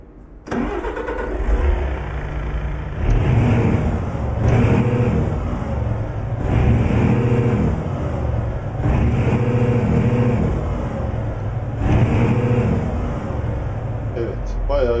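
A Ford F-MAX truck in Euro Truck Simulator 2 cranks and fires up, its diesel engine then rumbling and revving in several loud swells and drops, close and steady throughout.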